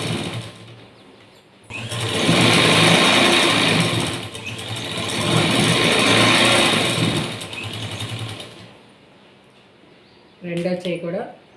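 A sewing machine runs in two long bursts, stitching a blouse's lining and sleeves together with a steady, loud mechanical whir, pausing briefly between runs; a voice speaks near the end.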